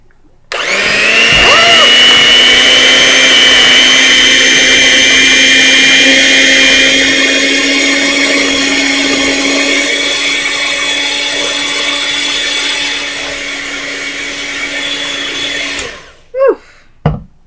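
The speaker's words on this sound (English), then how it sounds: "the powerful hand mixer I got here" A powerful hand mixer whips homemade daily moisturizer in a small container. The motor's steady whine runs loud and close for about sixteen seconds, then cuts off, leaving a few clicks and knocks.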